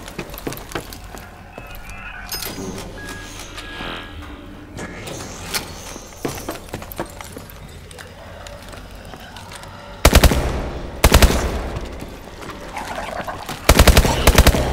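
Gunfire in Call of Duty: Advanced Warfare Exo-Zombies, heard as loud, dense rapid-fire bursts near the end, after a stretch of quieter game noise with scattered clicks and ambient tones.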